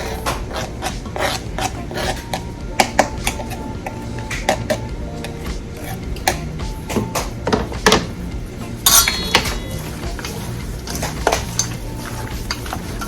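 Pimento seeds being ground by hand for Jamaican curry goat, a steady scraping, rasping grind with sharp clinks and knocks, close and continuous throughout.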